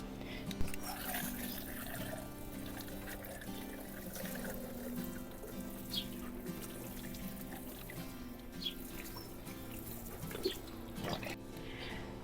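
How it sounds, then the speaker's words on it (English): Water trickles and splashes gently onto soil and leaves of a passion flower (Passiflora caerulea), a steady soft pour with occasional drips, fairly quiet and close. "So let's give that a water."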